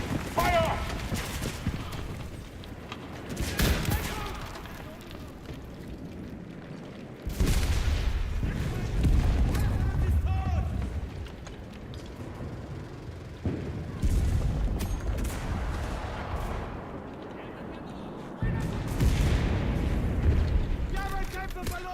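Booming artillery fire in the World War II shooter Enlisted, heavy blasts and rumbling impacts recurring every few seconds alongside scattered battle noise, with shouted voices in the mix.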